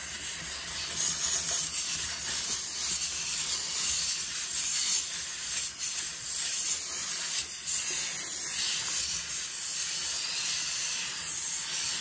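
A clothes steamer hisses on a trench coat collar, giving a continuous close, bright hiss with small rubbing variations. It keeps a steady level for the whole stretch.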